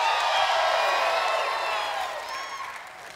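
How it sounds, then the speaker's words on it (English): Live studio audience at a comedy game show applauding and whooping, loud and close at first, then tapering off over a few seconds. "that's not an applause track. There are people here."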